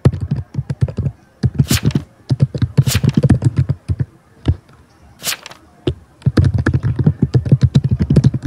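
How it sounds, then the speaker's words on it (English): Rapid bursts of typing on a computer keyboard, close and crisp, with clustered clacks separated by short pauses and a few sharper key slams. "I wanna type that."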